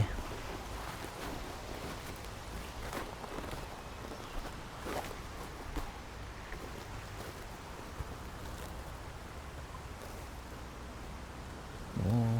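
Heavy rain in a prolonged rainy spell with flooding, a steady broadband wash of falling water and wind that stays constant throughout, with a louder bump at the very end.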